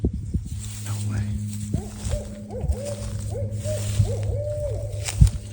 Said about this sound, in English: It sure sounds like two owls.